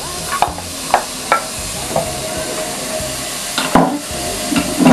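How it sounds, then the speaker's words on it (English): Minced beef and chopped onion sizzle in a saucepan with a close, steady hiss, while a spoon stirs them, knocking and scraping against the pan several times. "So you just add the minced beef into your saucepan, and then you add your chopped onion."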